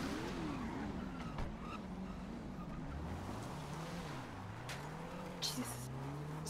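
A car engine revs and shifts pitch repeatedly as it is driven away, steady and moderately loud, with someone talking over it.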